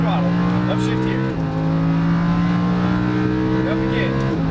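A Lamborghini Huracan LP610-4 engine accelerates hard on a race track, a loud, close, steady roar that rises in pitch and drops briefly at an upshift before climbing again.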